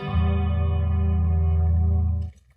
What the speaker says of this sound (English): is my electric guitar.